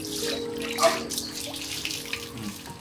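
Water pours steadily for a few seconds while someone washes an oil-covered man's body, a continuous splashing gush with a brief louder surge near the middle.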